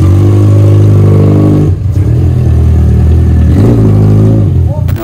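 Yamaha XJ6 motorcycle engine revving loudly up close, repeated throttle blips rising and falling over a rough idle, with people talking in the background.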